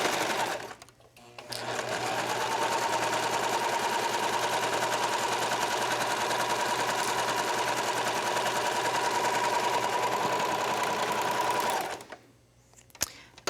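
A serger stitches knit fabric with white thread in a rapid, steady mechanical whir, close and continuous for about ten seconds between brief pauses.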